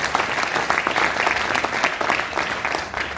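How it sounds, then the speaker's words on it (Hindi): Indoor hall audience applauding for a sponsor at a direct-selling training event, a dense, loud, even burst of many hands clapping close by, steady throughout without talk. "एक बार जोरदार ताली"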